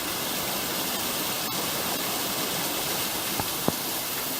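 A waterfall in the Grose Valley pours in a constant broadband rush, close and unbroken, with a couple of brief knocks near the end.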